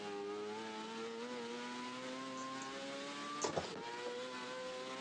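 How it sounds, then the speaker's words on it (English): A racing car engine in the video game Assetto Corsa holds a high, sustained whine with steady harmonic tones, briefly dipping with a gear change midway, loud and continuous with no talking. "To really let the engine scream more like Le Mans."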